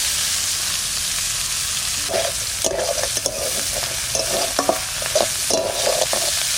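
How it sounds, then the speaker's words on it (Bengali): Prawns frying in a pan, a constant hiss of hot oil broken by repeated scraping and clinking of a spatula stirring through the second half, no talking. "চিংড়ি মাছটা ভাজা হয়ে গেছে"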